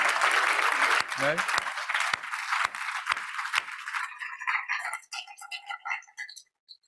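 Audience applause closing a panel discussion at the Barbican, a burst of clapping in the first four seconds that thins into scattered claps, with a voice speaking briefly over it.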